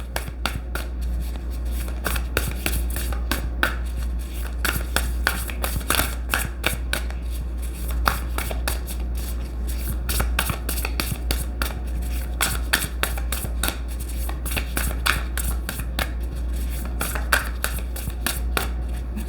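Cards are shuffled repeatedly at close range, quick riffling bursts and soft snaps recurring over a low steady hum.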